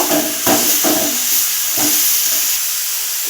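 Onions and curry leaves sautéing in a pan for a fish curry, a loud steady hissing sizzle with a few rhythmic scraping stirs early on, then a smoother hiss.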